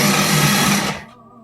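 A food processor pulses pie crust dough of butter, salt and Crisco in a short, loud whirring burst that cuts off abruptly, leaving a faint hum.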